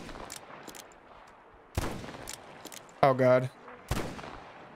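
Gunshots in the video game Metro Exodus, a few sharp, loud bangs spaced apart over quiet ambience, with a man's brief exclamation between them.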